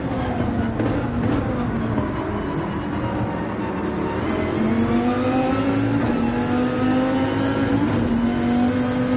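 Dodge Viper race car engine in Gran Turismo 7 at Daytona, a loud continuous close drone whose pitch sags and then climbs steadily as the car accelerates, with no talk over it.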